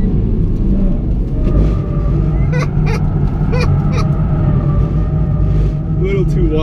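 A Mitsubishi Lancer Evo MR oversteers after a lift-off on a figure-eight course, its steady engine rumble overlaid with a few sharp, squealing bursts from the tires mid-clip, close and loud throughout.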